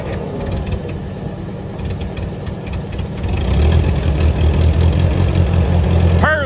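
A half-track tractor engine idles steadily with a low, even rumble, growing louder and heavier about halfway through.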